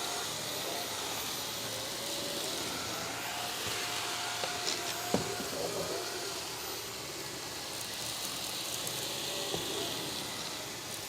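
A cordless stick vacuum on medium power cleans carpeted stairs, giving a steady, moderately loud motor whine and airflow hiss that runs continuously, with a few faint bumps as the head moves.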